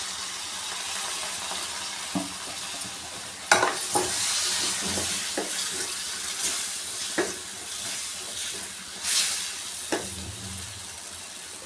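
Sambar powder frying in a pan of oil loosened with a spoonful or two of water over medium flame, a continuous sizzle broken by spoon scrapes and clinks, close with no talking.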